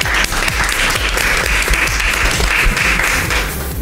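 An audience claps loudly and continuously for a Lithuanian model walking the runway at an autumn fashion show, a dense, close wash of applause with no talking.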